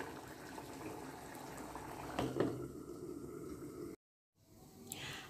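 Sumatran beef curry, daging cincang, bubbles quietly in a pot as it simmers, a soft close gurgle that briefly cuts out before resuming.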